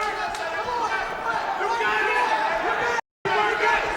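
An arena crowd at the 2010 Golden Gloves boxing finals: a steady din of cheering and chatter, with voices talking over it and a short drop to silence near the end.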